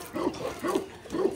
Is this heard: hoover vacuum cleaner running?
no